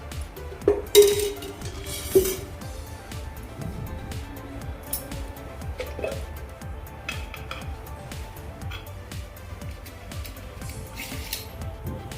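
A metal spoon clinks and taps against a pressure cooker as oil goes in for a soya chunks biryani, with a few sharper clanks early on and then quieter scattered clicks and scrapes over a low background hum.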